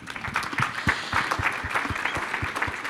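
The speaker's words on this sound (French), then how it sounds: "Merci pour cette intervention, qu'on peut applaudir, bien sûr." Attendees at an agrivoltaics conference applaud after a presentation, a moderate group whose individual claps stay distinct in a quick, uneven patter, fairly close and steady through the short burst.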